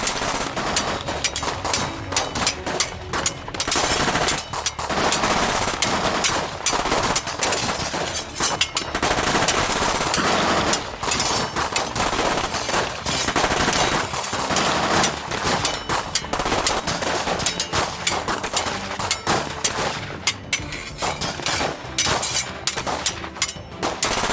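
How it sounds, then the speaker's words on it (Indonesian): Dense bursts of gunfire sound effects rattle through a school stage play about the battle where Teuku Umar is shot, rapid loud machine-gun volleys and scattered shots continuing almost without pause. "Teuku Umar ditembak."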